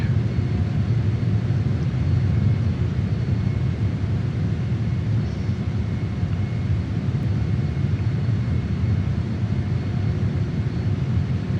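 A JAS-39 Gripen jet in Microsoft Flight Simulator makes a low pass over a small country town at about 300 knots with the throttle pulled right back, heard as a steady, loud engine roar and rumble that barely changes throughout.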